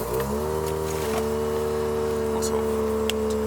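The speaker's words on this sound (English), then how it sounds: "But I'm gonna do a little cold start for you guys too." A car engine cold-starts and settles into a steady, loud idle with a low drone and a bright whine that shift slightly near the start, running continuously close by in cold weather.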